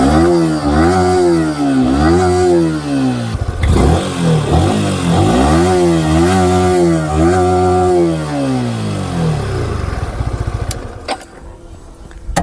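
A Yamaha R15 V4 single-cylinder sports motorcycle engine revs up and down repeatedly in rising and falling sweeps, loud and close, before dropping back toward idle.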